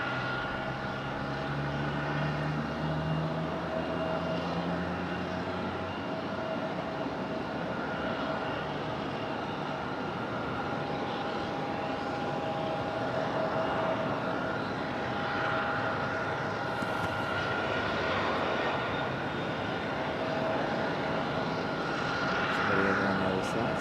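A steady, loud roar of airliner jet engines at Raleigh Durham airport as a Southwest plane moves along, a continuous droning whine that holds for the whole stretch with a faint voice underneath.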